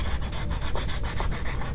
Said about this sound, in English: this is a cork one, and by doing so, it means as I start sanding away